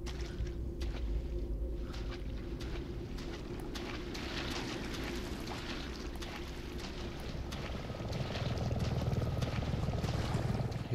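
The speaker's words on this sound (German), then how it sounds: "Ah, da ist ein Hubschrauber." A helicopter in the Resident Evil 7 video game gives a steady low rumbling drone throughout, fairly loud and constant, swelling slightly toward the end, with gusty wind-like noise on top.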